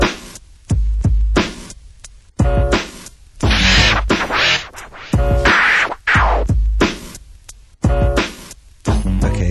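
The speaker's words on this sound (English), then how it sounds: "So I'll show you the 3-click orbit right now with the beat" Loud vinyl scratching in rhythmic bursts, a three-click orbit scratch with choppy clicks cutting the sample on and off over a thumping beat.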